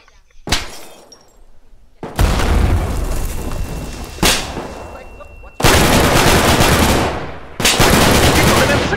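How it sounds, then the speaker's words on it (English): Explosions and bursts of gunfire in the Vietnam-era VR shooter Punji, with loud blasts and rattling volleys in close succession and a faint crack of breaking debris at the start. "Pull the pin, throw the grenade."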